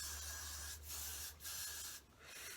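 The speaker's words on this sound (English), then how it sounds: "I think you're supposed to spray this. This is what I'm about to do." A cosmetic spray can hisses in three short bursts close to the microphone, each a breathy spray with brief gaps between them.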